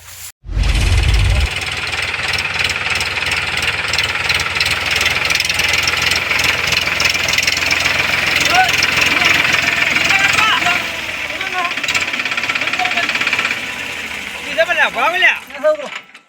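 A farm tractor engine running on a rural farm, a steady loud mechanical drone with a rough knocking edge that drops away near the end, with people talking over it.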